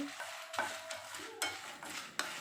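Dry red chillies roasting with salt in a pan, heard as a scraping stir with bursts of crackle and rattle as the spoon sweeps through, repeating several times close up.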